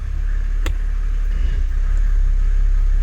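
The engine of a 1987 300D car runs on a trial run, a steady low rumble with a single brief click early on and nobody speaking.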